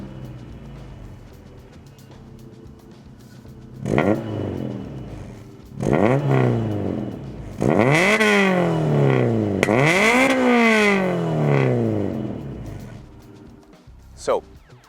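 A Spoon-tuned Honda Civic Type R EK9 engine revs hard in several sharp bursts with a low, gruff note, each rising then dropping back to a rumbling idle, close by with faint talk at the start.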